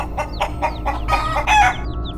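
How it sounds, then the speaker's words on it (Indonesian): A chicken near a cemetery in the forest clucks in a quick run of close, loud calls, then lets out a drawn-out crow. "suara ayam yang pernah mereka dengar dari jarak yang jauh kini terdengar sangat dekat"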